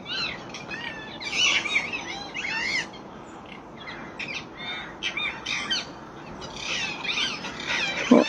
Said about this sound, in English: Oh, I can just see the birds. You can hear them.